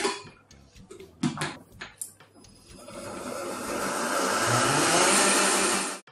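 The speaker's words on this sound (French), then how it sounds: "J'ai fait bouillir de la crème avec du foie gras et je vais maintenant le mixer." A blender mixes boiled cream with foie gras. A few short clattering bursts lead into a loud, continuous whirring that runs for about three seconds, then cuts off abruptly. No talk.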